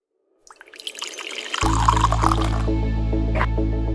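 Water pours into a laboratory beaker, starting with faint trickles and rising into a steady, close splashing stream that continues to the end.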